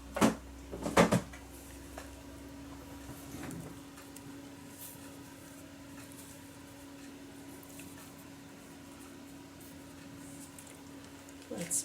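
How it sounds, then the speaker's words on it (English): A cupboard or drawer is pulled open with a couple of sharp knocks and clatters near the start, then a long stretch of quiet room hum with faint shuffling as items are rummaged through. "Just a little plunge into a couple of drawers here."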